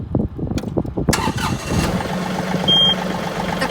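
A John Deere 2032R compact tractor is key-started: the starter cranks for about a second, then the engine catches and settles into a steady, loud idle nearby.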